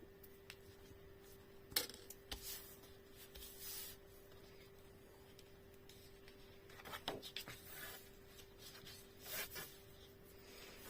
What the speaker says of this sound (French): Alors là, j'enlève l'excédent de colle.